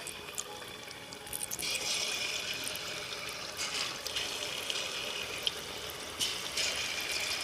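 Palm fruit fritters (taler bora) frying in hot oil, giving a steady close sizzle that swells into louder hissing bursts as more batter goes in.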